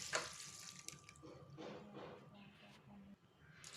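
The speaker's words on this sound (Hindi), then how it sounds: "पानी बिल्कुल आराम आराम से डालें प्रेशर कुकर में।" Water is poured slowly and gently into a pressure cooker, a running, splashing pour that keeps going over a steady background, with a voice talking faintly along with it.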